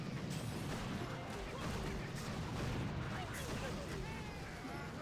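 Sniper tower and shock launcher firing in Boom Beach during a battle, a dense run of booms and crackling bursts under a voice talking over the action.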